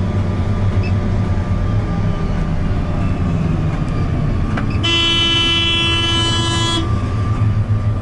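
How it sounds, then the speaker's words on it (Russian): A warning horn on a Torum 785 combine harvester sounds a single steady electronic tone for about two seconds, announcing start-up over a low idling engine drone. "Сигнал, да, что предупреждает, что комбайн запускается."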